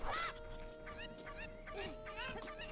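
Chickens in The Legend of Zelda: Ocarina of Time cluck and squawk in a rapid, overlapping series of short calls over a steady electronic hum, sounding slightly synthetic and moderately loud.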